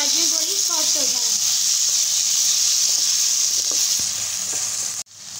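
Potatoes and carrots fry in a pan and are stirred, giving a steady, loud sizzling hiss with soft scraping throughout, as a voice speaks briefly at the start.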